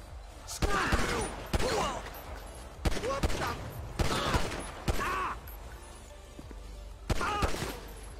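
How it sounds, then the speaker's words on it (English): A series of sharp gunshots, about six loud reports spaced roughly a second apart, with a person speaking quietly between the shots. "Dispatch, shots fired!"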